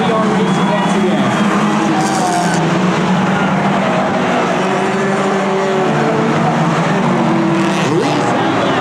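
Race cars in a Hornet class race roar back to speed after a caution, a loud continuous engine drone with rising and passing tones, under an announcer's voice.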